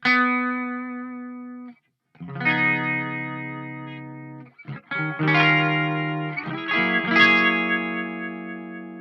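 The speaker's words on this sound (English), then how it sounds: "I have that going into the chorus pedal," Clean electric guitar notes and chords ring out with a shimmering, wavering chorus effect, played alone with short pauses between phrases.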